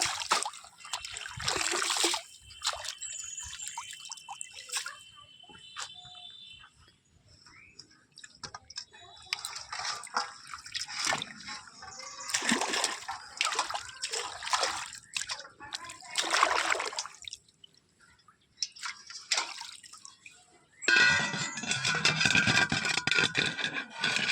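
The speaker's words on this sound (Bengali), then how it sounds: "পুকুরের জলে এগুলোকে সুন্দর করে ধুয়ে নেব এরকম করে নাড়া দিলে ধুলে এর মাটিগুলো পড়ে যাবে" Leafy greens being rinsed and swished by hand in pond water, with intermittent splashing, trickling and dripping at close range, broken by pauses and scraping sounds.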